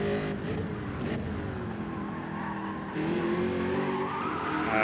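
A race car in Gran Turismo 7 slides off the track, its engine droning loud and continuous while the tires scrub and skid across the rough surface, intensifying toward the end.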